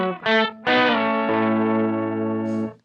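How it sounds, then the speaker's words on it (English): Electric guitar run through an octave pedal and a compressor, with tracking artifacts and slight latency: a few short picked notes, then a long sustained chord ringing loud and alone before cutting off. "there's even a bit of latency in the octave sound compared to the original sound from the guitar"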